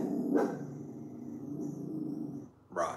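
A spooked dog barks indoors on a windy night in Austin, with a loud bark near the start and another near the end, over a steady low rumble of wind.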